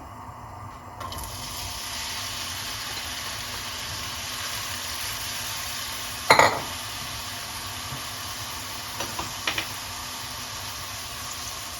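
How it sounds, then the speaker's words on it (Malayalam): Bitter gourd sautéing in melted coconut oil in a pan: a steady soft sizzle throughout, broken by one sharp clatter of a utensil and a few lighter taps near the end, with no talking. "നമുക്ക് പാവയ്ക്ക ഒന്ന് വഴറ്റിയെടുക്കണം."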